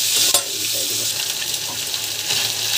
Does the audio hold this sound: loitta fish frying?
yes